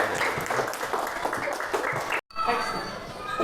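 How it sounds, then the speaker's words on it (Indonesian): Classroom applause from students: a burst of lively clapping that cuts off abruptly, then a brief quieter stretch with faint room noise and a hint of voices. "Ya, tepuk tangan lagi untuk kita semuanya."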